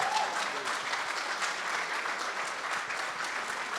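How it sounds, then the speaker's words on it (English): An audience at a presentation gives a round of applause, a dense, steady clapping that stays at an even level from start to finish, moderately far off with no talking. "I will ask you for one more round of applause for David."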